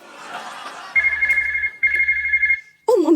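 Phone ringing in a comedy sketch kitchen: a steady electronic ringtone sounds in two long bursts with a short gap, loud and close, after a moment of low chatter and before a voice answers.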